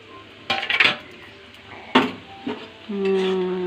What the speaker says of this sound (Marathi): हे बघा मस्त झाकण काढते आता मी।